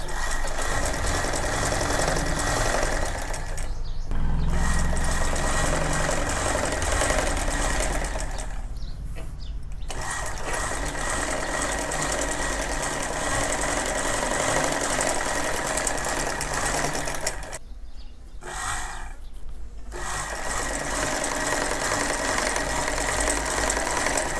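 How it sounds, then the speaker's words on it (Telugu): A sewing machine stitches the lining of a sleeve, running in a fast, steady mechanical whir, close and fairly loud, with a few brief pauses. "నీట్గా ఉబ్బులు లేకుండా ఈ లైనింగ్ అనేది స్టిచ్చింగ్ చేసుకోవాలి"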